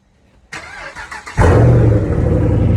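A car engine with a modified exhaust cranks with a few rapid starter pulses in about 25-degree cold, then catches and settles into a loud, throaty idle through the exhaust.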